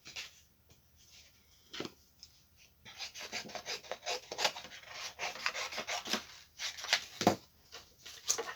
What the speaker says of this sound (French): Je vais venir découper dans ma chute.